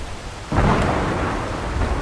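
Thunderstorm in the video game Ark Survival Evolved, a sudden rolling thunder crash over steady heavy rain, loud and sustained with no voices.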